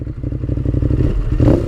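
A 2016 Ducati Monster 821 ridden at low revs in sport mode, its engine giving a rough, rapid, pulsing thrum close up that swells briefly near the end.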